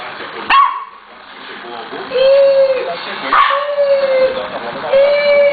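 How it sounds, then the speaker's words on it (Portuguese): A dog that plays ball barks and yips several times, loud and close, with whimpering tones between barks, while people talk in the room. "Essa é a cachorra que joga bola."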